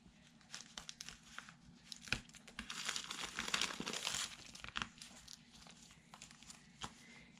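Paper craft kit pieces and envelopes are handled and set aside, producing close crinkling and rustling with brief sharp taps. The sound is quiet and irregular, with a busier stretch in the middle.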